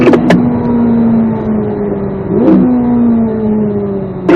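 A Corvette Z06 pulls hard around a race track lap, its engine droning loud and close with a steady rising pitch, briefly dipping around a gear change before climbing again.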